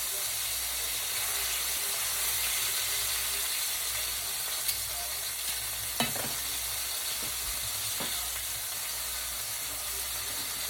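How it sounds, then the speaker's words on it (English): Southern-style cube steak fries in a hot pan, giving a continuous, even sizzle with a few faint ticks and pops over the steady hiss. "Good sear. Good fry on here."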